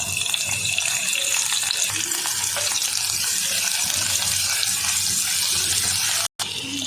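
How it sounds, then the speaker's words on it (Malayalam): Finely chopped garlic and curry leaves frying in oil in a pan, producing a loud, dense, continuous sizzle that holds steady throughout with one brief dropout near the end. "ചെറുതായി അരിഞ്ഞു വെച്ചിരിക്കുന്ന വെളുത്തുള്ളിയും കരിവേപ്പിലയും ചേർത്ത് കൊടുക്കാം."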